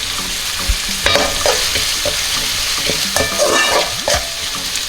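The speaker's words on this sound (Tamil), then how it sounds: "ஒரு 1 minute மட்டும் அப்படியே ஆயிலில் சாட்டே பண்ணால் போதும்" Chopped onion sautés in oil with curry leaves in a pan for Indian-style egg macaroni, a bright, close sizzle broken by repeated scraping stirs of a spoon against the pan.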